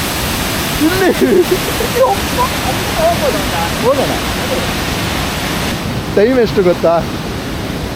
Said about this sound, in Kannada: ಏನು ನೀರಿನ ಫೋರ್ಸ್ ನೋಡೋ ಇಲ್ಲಿ